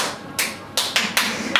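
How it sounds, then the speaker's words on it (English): Bare hands clap sharply to call a meeting to order: five crisp, close claps in an uneven rhythm with short silent gaps between them. "I'm going to clap like this."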